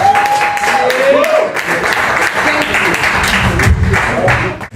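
Steady, loud applause from a crowd at an open mic night in a Red Lobster restaurant in Harlem fills the whole stretch, dense clapping with a few voices calling out on top.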